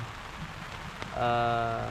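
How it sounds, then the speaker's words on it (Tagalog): Light rain patters steadily at a small forest campsite, a soft continuous hiss with scattered drops, then a louder tonal hum rises partway through. "Mas lalong masarap sa pakiramdam pag ganitong nauulan."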